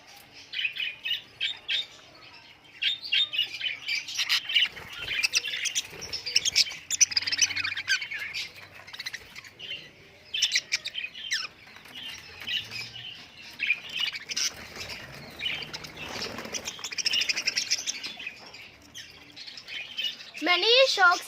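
Young parrots and a cockatiel kept in a flying cage chirp and squawk continuously in a busy, close chorus of overlapping calls, with a person speaking at times underneath.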